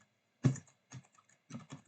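A few separate keystrokes on a computer keyboard, close and clear, with quiet gaps between them while Linux commands are typed at a terminal.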